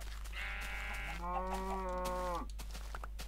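A sheep in the Minecraft video game gives one drawn-out bleat that wavers through its middle, playing alone over a steady low background hum.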